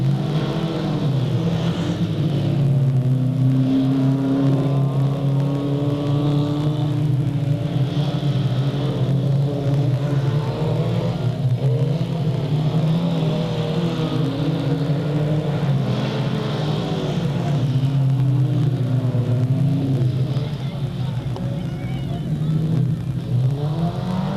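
Race cars at Delta Speedway on the final lap, engines holding a loud, steady, layered roar with pitch swells as the cars circle the track throughout.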